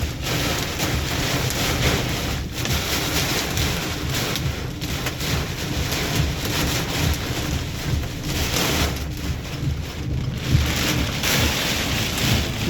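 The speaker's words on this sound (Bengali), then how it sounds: "এত জোরে বৃষ্টি গাড়ি সাইড না করে গাড়ি চালাতে পারতাছি না" Heavy storm rain pounds a car in Hemayetpur, Savar: a loud, steady, dense roar of drops drumming on the roof and windshield for the whole stretch, with no talk over it.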